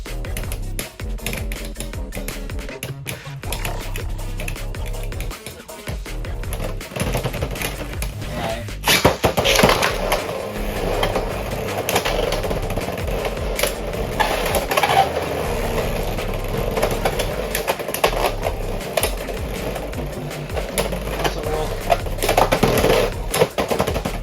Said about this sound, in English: I'm trying to hear the plastic ring being hit.